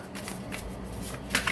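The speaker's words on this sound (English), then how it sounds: "Don't mind me as I shuffle." Tarot cards being shuffled by hand at close range, a soft, quiet riffling with a few brief flicking bursts near the end, no voices.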